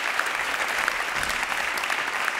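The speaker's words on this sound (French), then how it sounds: "Je crois qu'on peut l'applaudir" A closing-session forum audience applauds, a steady dense wash of many hands clapping at once, loud and sustained throughout.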